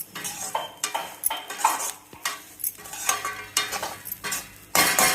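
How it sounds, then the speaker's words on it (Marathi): A spoon stirs food in a pan in short repeated strokes, scraping and clinking against the metal under a faint sizzle. The sound is close and fairly loud, with no voices. "आता व्यवस्थित हलवलं आहे."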